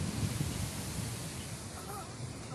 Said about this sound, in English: extremely windy today.